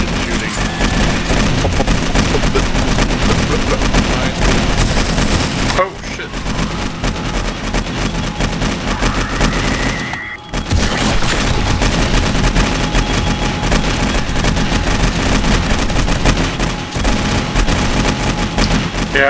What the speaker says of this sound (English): It's so laggy that my guns are like slow motion shooting.